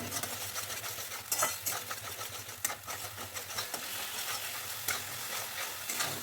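Tomato paste sizzles in a hot pan with whole cardamom, cinnamon and salt while a spoon stirs and scrapes it, giving a steady close frying hiss broken by sharp clatters, with no talking.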